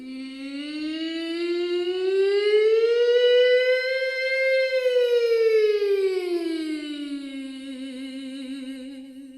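A singer's voice imitates a fire brigade siren in one long continuous tone that slides smoothly up, holds, then glides back down with a slight wobble at the end, loud and alone.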